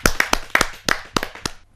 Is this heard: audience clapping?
yes